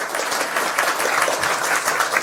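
An audience at an Observatory Night talk breaks into steady, dense applause, a continuous wash of many hands clapping at close range with no pauses.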